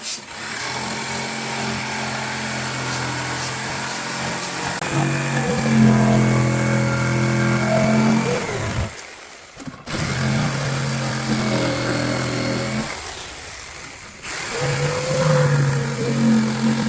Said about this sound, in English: that Ryobi tool is actually a good jigsaw